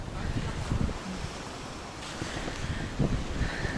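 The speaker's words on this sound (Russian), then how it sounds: "Посмотрите, какой ветрюган." Strong wind buffets the microphone on a snowy winter seafront in Feodosia, Crimea, a steady roaring rush with gusty bumps and faint distant surf.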